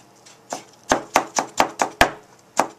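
A knife chopping ginger on a cutting board: about nine crisp, close thuds in a loose, fairly even rhythm, alone with no talking.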